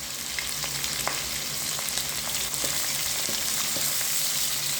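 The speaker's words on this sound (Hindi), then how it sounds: "लाइट गोल्डन कलर आने तक फ्राई करेंगे" Onions sizzle and fry in hot ghee in a pan until light golden, a steady close crackling hiss with occasional sharper pops and faint stirring, no voices.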